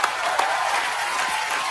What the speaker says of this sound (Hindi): एक बार हेलन जी और आशा जी के लिए जोरदार तालियां हो जाएं